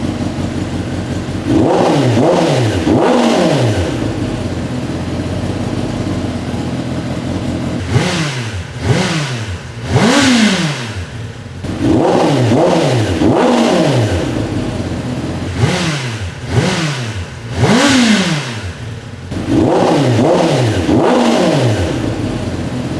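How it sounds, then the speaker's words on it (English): A Kawasaki ZX10R sportbike, heard on its stock exhaust and then on a Leo Vince Corsa exhaust, barks through loud clusters of sharp throttle blips, idling between rev bursts, with no talking. "Now we're going to do a rev comparison between stock and the Leo Vinci Corsa."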